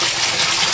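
Water drains from an aquaponics grow bed in a small backyard setup, a loud, steady close-up gush and splash that fills the whole short moment without any talk.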